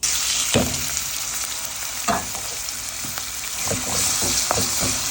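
Chopped onions sizzle in a pan with whole spices (cardamom, cinnamon, cloves, bay leaf, nutmeg, mace) for goat liver bhuna, a steady close frying hiss broken by several sharp spatula scrapes and clanks.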